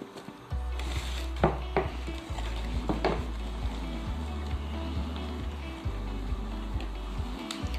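A spoon works flour into cake rusk batter in a bowl, giving irregular clinks and scrapes against the side, close by over a low steady hum, with no voices.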